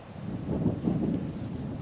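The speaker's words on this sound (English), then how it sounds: "The wind's picking up a little bit, so try and time it between gusts." Gusty outdoor wind of about 3 to 5 mph with gusts near 12 buffets the microphone in a low, rumbling swell that rises and falls over a couple of seconds, with no voices.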